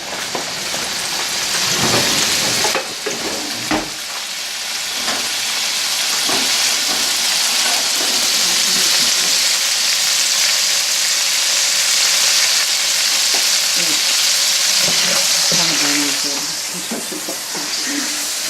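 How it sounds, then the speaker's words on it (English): Tomato sauce for spaghetti with cherry tomatoes frying in a pan: a loud, steady sizzling hiss that continues almost unbroken throughout, with a few small clatters near the start. "Let that all fry up a little bit."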